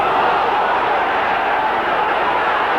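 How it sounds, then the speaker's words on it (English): A rugby league crowd at a Widnes versus Hull match roars steadily, a dense, continuous wall of voices that holds at full strength throughout. "A roar from the crowd."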